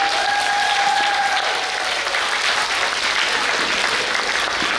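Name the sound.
assembly audience applause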